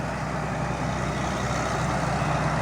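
Combine harvester diesel engine with a built-in turbo idling steadily, a constant low rumble and broadband whir with no rising turbo whistle, close and continuous.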